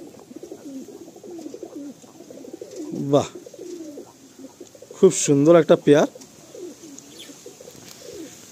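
Madrasi (Andhra) pigeons cooing in a loft, with low, soft, repeated coos running throughout and someone speaking briefly over them in the middle.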